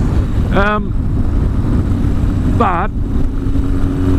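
A Yamaha XS11 motorcycle engine runs steadily under strong wind rush while riding, a constant droning roar lasting throughout, with a voice briefly speaking.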